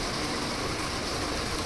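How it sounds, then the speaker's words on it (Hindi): Steady, dense rain pours down outdoors during the monsoon, a loud continuous hiss with no breaks and no voices. "बारिश, बढ़िया मौसम हो रहा है"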